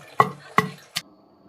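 Gongura leaves and chillies are coarsely pounded by hand, giving three heavy, close thuds roughly 0.4 seconds apart before the last one fades, with no voices.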